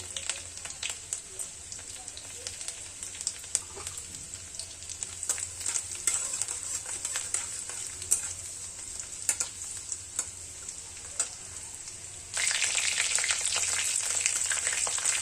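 Chopped garlic and cumin fry in a pan with leafy greens, making a soft sizzle and crackle with occasional stirring clicks, turning into a louder, brighter hiss near the end.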